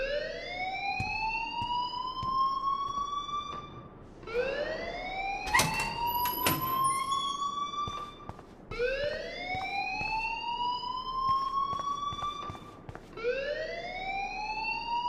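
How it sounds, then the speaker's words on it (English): Fire alarm sounding in the video game Life is Strange, a repeating rising electronic wail cycling about every four seconds, with a few brief clicks and clatters mixed in. "please turn off that alarm since that's your job"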